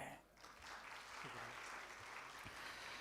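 Audience applause after a recited Urdu couplet at a conference session, a steady broad wash of clapping filling the whole stretch with a few louder claps standing out.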